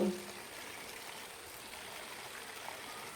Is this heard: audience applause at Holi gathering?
no